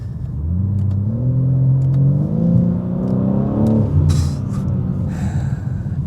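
BMW M car engine revving up while driving, a loud rising tone that climbs through several gear-like steps then drops off, followed by a few sharp knocks.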